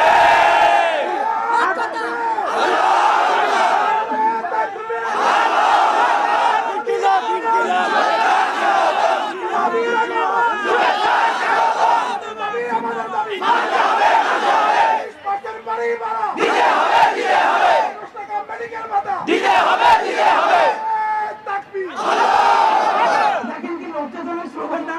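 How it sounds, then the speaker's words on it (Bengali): A large protest crowd chants slogans in unison, loud and close, with rhythmic shouted phrases repeating in waves separated by short pauses for about twenty-five seconds. "দেখেন কি লজ্জাজনক স্লোগান না?"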